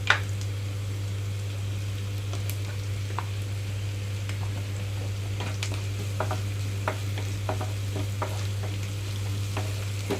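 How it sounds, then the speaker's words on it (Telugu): Amaranth greens stir-fry in a pan with onions and turmeric, giving a steady, even sizzle broken by scattered clicks of stirring for the whole stretch, with no voices. "ఇప్పుడు ఇందులోకి నేను ఆకుకూర మొత్తం వేసేసుకుంటున్నాను"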